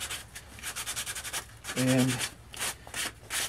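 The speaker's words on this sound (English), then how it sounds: "So we usually do it with the hand sanding paper from this point." Rhythmic back-and-forth rasping of sandpaper hand sanding a wooden turtle totem for a Native American flute, close and fairly quiet, with a brief voice partway through.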